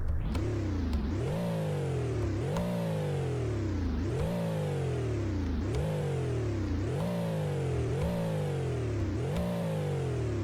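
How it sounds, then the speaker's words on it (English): A powerful twin-turbo V8 engine in an Aston Martin DB11 revs hard again and again, each run of rising pitch climbing sharply, then dropping back in a steady, loud, repeating cycle. "I'm gonna give it some revs here"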